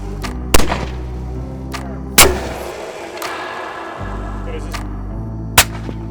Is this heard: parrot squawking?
no